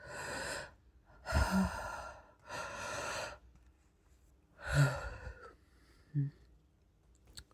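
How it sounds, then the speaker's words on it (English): A close, drawn-out human yawn with heavy breathy sighs, several long exhalations and a couple of short gasping intakes in a quiet setting, no words spoken. "that made me sleepy and want to yawn"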